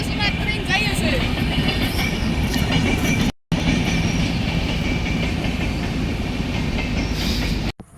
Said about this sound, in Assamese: চাওক আজি মানে ট্ৰেইন যাই আছে, এই ৰাজধানীখন যাই আছে।